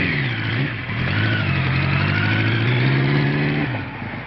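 A Kawasaki motorcycle engine revs up and holds a rough, throaty roar up close, then eases off near the end.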